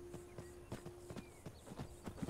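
Horse hooves clip-clop in the video game Skyrim, a steady walking rhythm of soft thuds at moderate distance over a low constant background hum.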